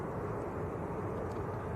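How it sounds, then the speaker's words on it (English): Airbus A380 taxiing past the engine test bay at Manchester Airport, a faint, distant, steady engine rumble with soft broadband hiss and no talk. "the A380 is taxiing out"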